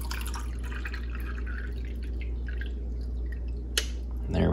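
Water trickles and drips into the reservoir of a Makita DCM501 portable coffee maker, faint and close, with a soft splash near the end.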